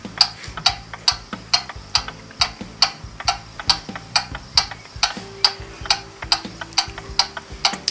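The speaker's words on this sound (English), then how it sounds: "First we'll attach a beat amplifier, which will make it easier for us to hear when getting the clock in beat." A Gilbert kitchen clock ticks steadily through a beat amplifier, each sharp, loud tick evenly spaced in a regular tick-tock rhythm over a low hum.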